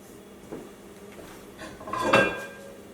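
A large cooking pan is handled in a kitchen, with a few metallic clanks and scrapes building to a louder clatter near the end, close and alone without talk.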